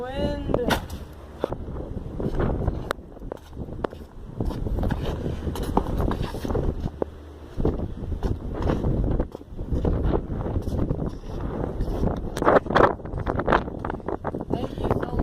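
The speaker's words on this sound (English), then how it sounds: "Oh, the wind." Wind blowing outdoors, buffeting the microphone in loud, gusty rumbles and crackles throughout, with people talking faintly underneath.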